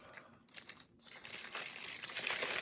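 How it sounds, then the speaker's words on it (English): A plastic bag crinkles and rustles around a light gray suede shoe being unpacked, with close, steady crackling that thickens and grows louder toward the end, after a brief quieter stretch. "each shoe is actually in its own plastic bag"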